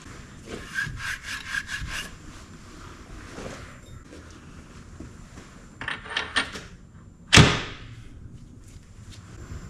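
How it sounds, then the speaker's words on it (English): Grade 5 titanium ring being finished on a ring mandrel: several close scraping, rubbing strokes in bursts, ending with one sharp louder scrape, with no talking. "time to get it mounted up on the ring mandrel and finish it off"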